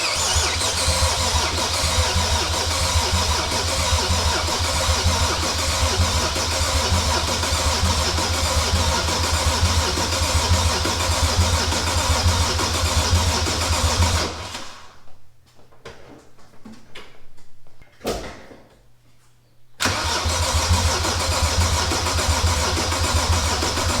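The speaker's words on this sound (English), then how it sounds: "So I wanna do a fire up or crank" A BMW E30 fitted with an N54 engine runs loud and steady for about fourteen seconds, drops out into a quieter stretch with a brief burst, then roars back at full level. No one speaks.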